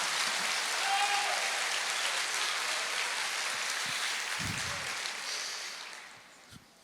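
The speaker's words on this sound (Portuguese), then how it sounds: "Você pode dar uma salva de palmas para Ele?" Church congregation claps during a sermon, a dense wash of applause that holds steady and then fades out toward the end.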